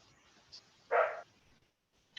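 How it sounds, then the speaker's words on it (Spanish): Small dog barking somewhere nearby, a single short bark in an otherwise quiet room, faint and slightly distant with no one talking. "hay un perrito por ahí, la verdad"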